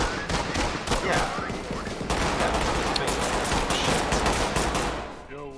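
Dense automatic gunfire rattles in the tactical shooter game Ready or Not, rapid bursts running almost continuously, loud and close, with voices faintly underneath.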